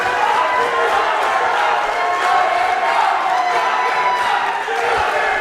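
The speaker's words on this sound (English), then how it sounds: "Listen to this crowd." A packed pro wrestling arena crowd roars and cheers continuously, a loud dense wash of voices and whoops with no pause.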